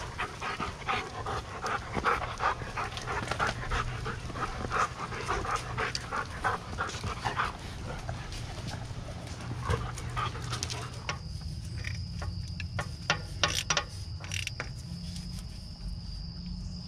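Dogs pant in quick, rhythmic breaths close by, outdoors beside a 1950s Caterpillar TraxCavator. Crickets chirp steadily underneath, and the panting eases after about eleven seconds while a high insect whine continues. No one speaks.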